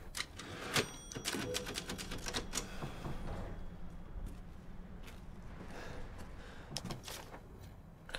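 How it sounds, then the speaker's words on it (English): Old-fashioned typewriter keys clack in quick, irregular bursts with a few louder strikes, set inside the Resident Evil Village video game, fairly close, with faint room ambience and no talk. "Old school typewriters"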